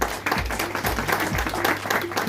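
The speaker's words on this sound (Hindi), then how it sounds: "जोरदार तालियां उनके लिए।" Audience applause at an Indian gathering honouring a newly appointed all-India general secretary: dense, sustained clapping from a crowd, steady and fairly loud throughout, with a low background hum.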